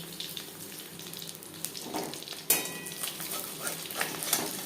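Masala-coated fish fries in hot oil over a medium flame, a light crackling sizzle close by with a sharp clatter midway and occasional utensil touches, no talk.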